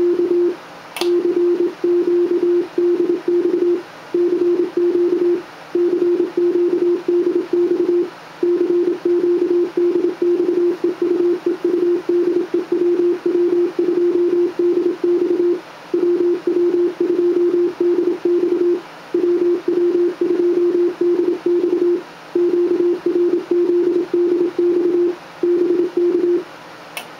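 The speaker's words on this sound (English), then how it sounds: "let's do a little CW here" A steady CW Morse code tone keys on and off in long repeated bursts with brief gaps while an SB220 amplifier is being tuned, sounding clear and alone with no talk.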